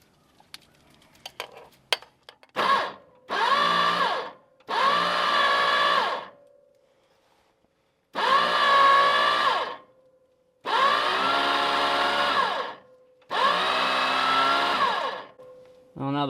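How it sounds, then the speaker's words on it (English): A worn starter belt slipping on the pony motor of an old 1950s Caterpillar, heard as several loud, sustained whining bursts separated by short pauses. "Well, now the belt is slipping."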